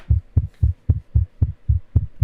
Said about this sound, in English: I mean, my heartbeat right now.